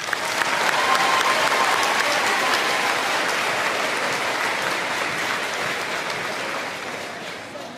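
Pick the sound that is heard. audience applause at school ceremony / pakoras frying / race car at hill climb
audience applause at school ceremony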